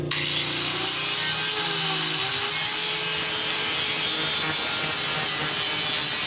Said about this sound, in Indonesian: Kita gerinda si per yang udah kita ratain tadi.